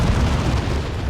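A tank blowing up in the Warhammer 40,000: Dawn of War 2 strategy game, a loud sustained rumbling explosion with deep booming roar that fills the moment without letup.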